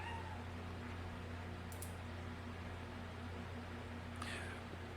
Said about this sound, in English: that's just my cat. She needs attention.